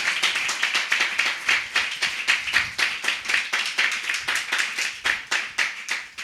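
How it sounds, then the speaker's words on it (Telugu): A worship congregation at a New Year service claps hard in a steady, rhythmic beat, each sharp clap loud and evenly spaced, with no talk over it. "ఇది కొట్టండి, చప్పట్లు గట్టిగా కొట్టండి"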